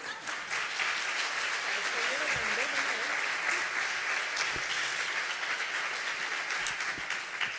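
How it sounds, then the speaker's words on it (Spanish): Steady audience applause at a live folk music concert, many people clapping continuously at moderate volume with faint voices and a few shouts mixed in. "un aplauso a ver si sale"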